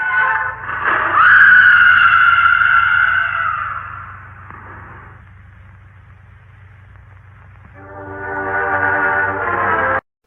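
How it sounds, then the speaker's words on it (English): Dubbed woman's high scream for a falling stunt dummy in The Lone Ranger, a loud sustained shriek that fades out, then a second loud burst of screaming near the end, no other voices. "It is a little confusing as to why they would dub in a woman screaming for this dude"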